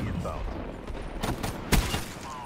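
Gunfire in Call of Duty: Black Ops 3 multiplayer: a few scattered bursts of in-game shots, one louder crack near the end, heard at moderate level under faint background game sound.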